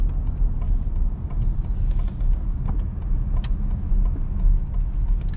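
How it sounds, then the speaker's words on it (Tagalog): City road traffic in Toronto, with many cars moving along a wide street, a steady close rumble of engines and tires continuing throughout with no one talking. "kahit malapad yung daan, guys, nagkakaroon pa rin ng matinding traffic dito gawa ng sa dami ng sasakyan"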